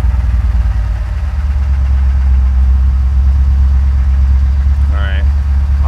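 An LS-swapped Chevy Nova idles steadily, its engine note a loud, even low rumble that holds throughout, with a short higher chirp near the end.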